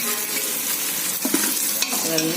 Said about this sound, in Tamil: இஞ்சி பூண்டு நல்லா வதக்கணும்.